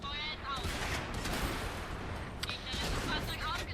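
Gunfire striking a tank in a tank combat video game: a dense burst of sharp cracks and booms, several close impacts in quick succession with rattling bursts, loud and crowded across the whole stretch.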